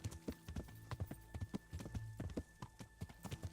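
Horse hooves clip-clop in the video game Kingdom Come: Deliverance, a steady run of sharp, close hoofbeats in uneven rhythm over a faint background, with no talk.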